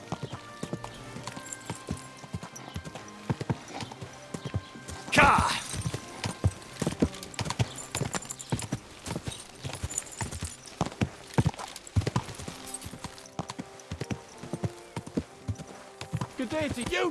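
Horse hooves clip-clop in steady rhythm from a cheap old nag ridden in the medieval game Kingdom Come: Deliverance 2, moderately close, with a sharp clatter partway through and intermittent speech over the top.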